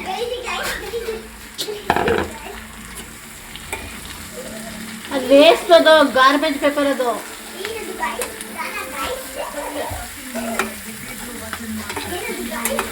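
Mushrooms frying and being stirred in a pan for a mushroom pepper dry, giving a steady low sizzle with scraping stirs. Speech and a child's chatter run over it throughout.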